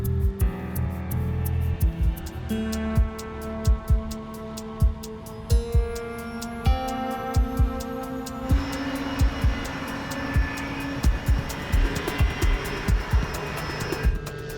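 Inside a Kenya Airways airliner taxiing toward the runway in stormy weather, a constant low engine hum and rising whine run under a regular pattern of soft thumps.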